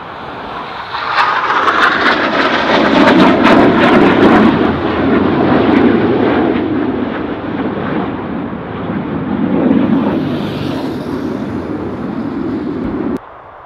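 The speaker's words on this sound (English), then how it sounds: "but some of the aeroplane just flew through. So loud." A loud jet airplane roars overhead in the Lake District, building quickly and then slowly fading as it passes, with no talking.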